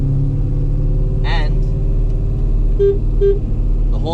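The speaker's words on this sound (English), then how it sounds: "And the horn works." Short honks from the horn of a Holden VN Commodore fitted with an LS1 engine, two brief toots over a steady idling engine rumble inside the car.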